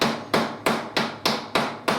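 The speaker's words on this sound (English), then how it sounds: "take a hard hammer, tap them so that the teeth grip the wood" A hard hammer taps toothed metal caster sockets into the bottom of a wooden furniture leg, giving seven sharp, evenly spaced strikes at close range, each one loud and quickly decaying.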